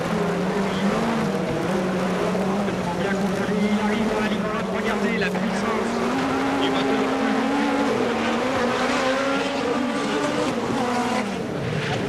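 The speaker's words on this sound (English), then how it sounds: "Hear the engine screaming as he comes down that bit of the straight, and then he brakes for that left-hander." A Peugeot 205 rally car at the 1988 Race of Champions final screams steadily down a straight, its high engine note rising and holding loud and close before easing as it brakes, with a commentator talking over it.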